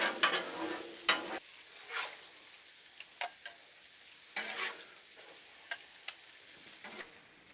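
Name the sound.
sausage sizzling on a Blackstone griddle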